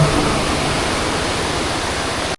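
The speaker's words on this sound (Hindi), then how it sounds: "पानी देखो कितना तेज़ आ रहा है, पानी उस साइड से इस साइड को आ रहा है" Fast-flowing water crosses right beside a road near the India–Pakistan border, a loud, continuous roaring rush heard close by and alone until it cuts off abruptly.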